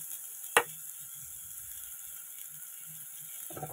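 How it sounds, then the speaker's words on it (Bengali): Chopped tomato goes into a pan of fried spices, drawing a sharp clack followed by a faint, steady sizzle with small scraping sounds near the end. "এই যে টমেটো কুচি দিয়ে দিলাম"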